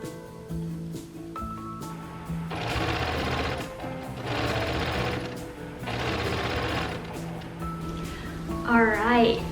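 A sewing machine stitches a shirt's side seam in three steady, whirring runs separated by brief pauses, close and clear, with talk over parts of it.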